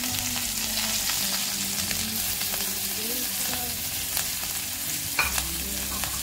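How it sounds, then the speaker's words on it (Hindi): Garlic, ginger and chilli frying in hot oil in a pan, a steady soft sizzle with light stirring scrapes and a few small clicks throughout. "इसमें हम अभी लहसुन अदरक और मिर्च ऐड करेंगे और इसे हल्के हाथों से हमें फ्राई करना है"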